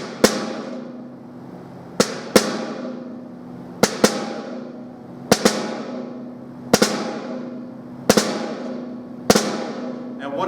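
Snare drum flams played with small left and right taps, eight sharp strikes spread evenly over ten seconds, each a crisp close crack with a rattling snare decay, no voices.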